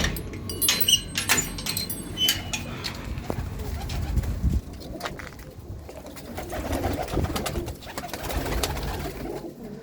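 Pigeons kept by a breeder at home coo in soft, low repeated calls close by, mixed with wing flaps, clinks and rustling, while someone talks over them.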